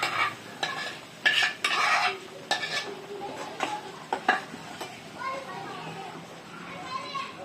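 Ground masala paste for a halwa fish curry being stirred into frying spices, metal utensil scrapes and clinks over a low sizzle, with children's voices and chatter in the background.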